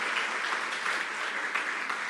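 A church congregation applauding together, a dense steady wash of many hands clapping at moderate volume, sustained without a break.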